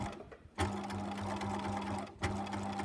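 A sewing machine stitches an invisible zip along the seam allowance, whirring steadily and close up after a brief pause, with a short break and restart near the end.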